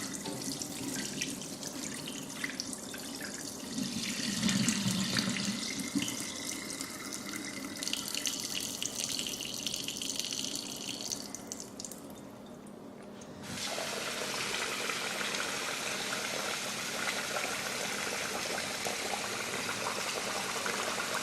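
Tap water running into a bowl while rice and dal are rinsed for dosa batter, a steady splashing flow that briefly quiets, then resumes strongly as the stream changes.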